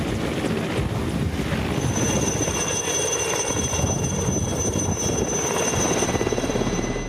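Mi-series military helicopter of the Indian Air Force, a loud continuous rotor and turbine drone with a high whine, heard on its own with no talk.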